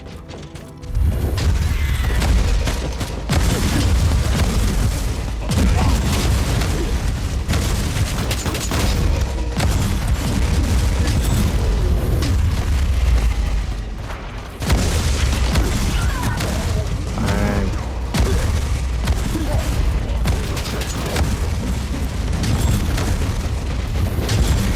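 Wall gates blown apart in the video game Warhammer 40000: Inquisitor - Martyr: a dense, continuous barrage of heavy booms, crashes and weapon fire, loud and sustained with only a brief lull midway.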